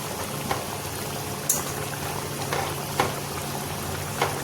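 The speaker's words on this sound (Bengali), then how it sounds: "কি সুন্দর আলুর ঝোল টকবক টকবক করে ফুটছে" Potato curry for luchi boils steadily in a pot, a continuous close bubbling hiss with occasional louder pops and splutters and no one speaking.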